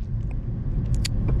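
Tuned rear-wheel-drive BMW M340i driving in comfort mode through a blizzard, a steady low engine and road rumble filling the cabin with a few faint higher crackles, no talking.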